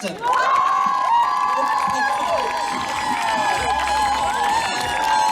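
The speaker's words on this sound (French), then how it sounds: "Applaudis très fort, c'est les Fechtarion-Arbrück de Pluneret" Crowd at an evening festival event in Guingamp cheering and applauding for the Festerion Ar Brug group from Pluneret, a loud continuous wash of voices and clapping with a held tone over it and shouts close by.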